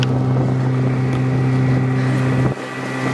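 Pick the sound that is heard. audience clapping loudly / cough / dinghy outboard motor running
dinghy outboard motor running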